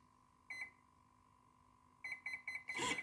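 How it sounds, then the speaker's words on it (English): Electronic beeping from a nearby armed RC boat controller: one short beep, a pause, then a quick run of repeated beeps, over a faint steady hum. "Now it's armed, it's become solid, and now we have this continuous beeping."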